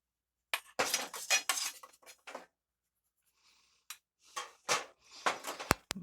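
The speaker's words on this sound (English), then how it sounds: "So go ahead and stir this up a little bit." A spoon stirs a dry Jamaican curry powder spice blend in a bowl, close scraping and light clinking strokes in short bursts separated by pauses of silence.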